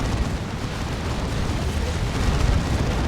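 Continuous rumbling explosions from missile attacks in the strategy game Warhammer 40k Dawn of War 2, a loud dense wall of blasts and booms with no pause.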